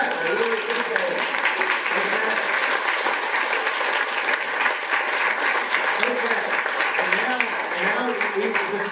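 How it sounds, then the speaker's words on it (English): A lecture audience applauds steadily and fairly loudly for around nine seconds, a continuous wash of many hands with murmured voices faintly beneath. "So first, active applause."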